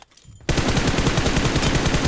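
Near-silence, then sudden sustained automatic M16 rifle fire in PUBG Mobile, rapid and loud, a continuous burst of shots with no voices.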